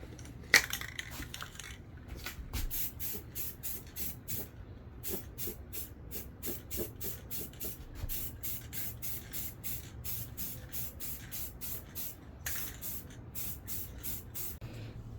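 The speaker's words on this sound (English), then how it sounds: "So now let's go ahead and spray this on." An aerosol spray can applies satin black paint to a car trunk in a series of short bursts, the close hissing pulses separated by brief gaps, with a rattle-like clatter at the start.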